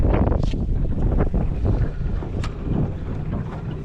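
Strong wind buffets the microphone aboard a small fishing boat, a steady loud roar with gusty low rumble throughout and a few sharper flaps, no speech.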